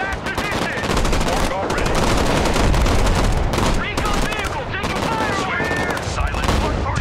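Gunfire in the war game Broken Arrow: rapid machine-gun bursts and scattered shots in dense, overlapping volleys, loud and sustained throughout, with game voice chatter mixed underneath.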